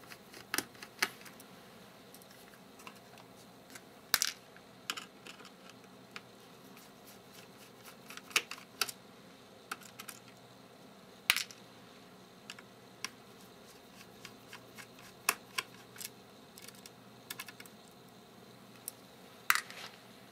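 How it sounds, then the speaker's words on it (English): Small screws being unscrewed from the battery of an HP Chromebook laptop during disassembly: faint, scattered clicks and ticks of a screwdriver and metal parts, quiet and close, without any talk. "Next, I'm going to remove the three screws that hold down the battery."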